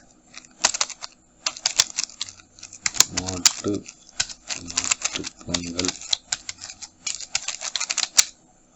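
Someone types text on a computer keyboard in quick, uneven bursts of clicking keys, with someone speaking over part of it.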